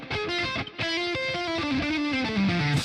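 A distorted electric guitar through a Polychrome DSP Nunchuck amp plugin with reverb and delay plays a sustained, descending line with a washy, echoing tail, loud and close with no voices.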